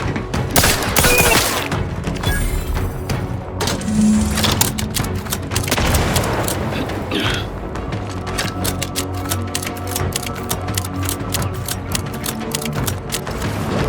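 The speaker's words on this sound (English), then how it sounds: "Grenade outbound!" A grenade blast in The Outer Worlds 2 amid a loud, dense firefight, with a heavy boom early on followed by clattering rapid gunfire and mechanical crackle throughout.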